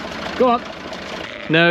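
A tractor engine idles close by on a farm with a steady low rumble beneath two short bursts of a man's speech, as the animals are urged along.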